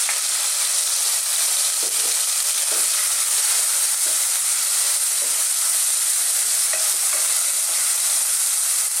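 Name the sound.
tomatoes and ginger frying and being stirred in a pot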